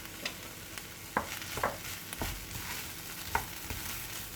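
Grated cheddar is stirred into a pan of pasta pearls, turkey, bacon and small vegetables, with a quiet scraping and gentle sizzle marked by several sharp utensil knocks, close and with no talk.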